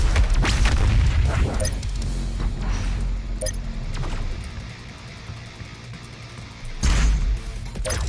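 A BFG 10,000 cannon firing in a video game, heard as deep rumbling booms with two sharp blasts, one near the start and a heavier one near the end, over a continuous low game hum.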